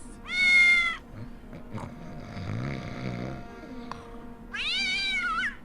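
A cat in the video game Hidden Mysteries: Titanic lets out two loud, drawn-out meows, one at the start and one at the end, with a low snoring-like rumble and faint clatter between them.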